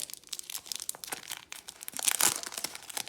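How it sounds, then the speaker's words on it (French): Crinkly plastic wrapper of a fake Pokémon card booster pack being torn open and crumpled, quiet, close rustling with a sharper tearing burst near the end. "Hop, on va ouvrir celui-là."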